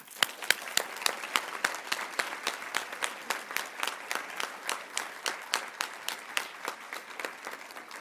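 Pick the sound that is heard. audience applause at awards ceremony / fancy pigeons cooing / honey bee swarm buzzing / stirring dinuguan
audience applause at awards ceremony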